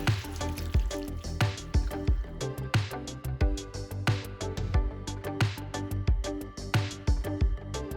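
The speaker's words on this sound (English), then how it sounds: "Next, I'm adding some water here." Water is poured into a pan of dapanji, Xinjiang Uyghur big plate chicken with potatoes, producing a splashing liquid hiss over sizzling, with repeated clatter and stirring knocks close by.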